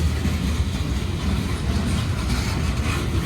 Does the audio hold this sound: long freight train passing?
yes